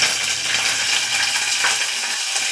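Garlic fries with mustard seeds in hot tempering oil in a pressure cooker, giving a dense, steady, bright sizzle close up. It carries on without a pause, and no one speaks over it.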